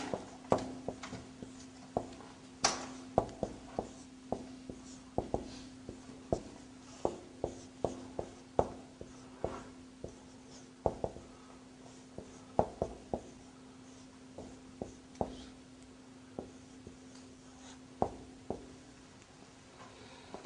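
Marker or chalk writing on a board, faint and steady, with irregular taps and scratches of strokes at about one per second and a low constant hum beneath, no talk.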